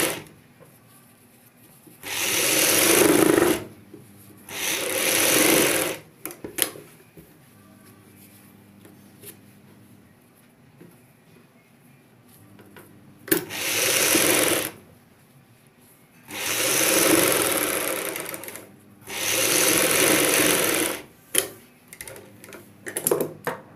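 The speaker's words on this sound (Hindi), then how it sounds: "बुकरम वाले गले को अंदर की साइड फोल्ड करते हुए ऊपर से सिलाई लगाएंगे" A sewing machine stitches the folded, buckram-lined edge of a V neckline, running in five loud bursts of about two seconds each, with quiet pauses between them while the fabric is adjusted.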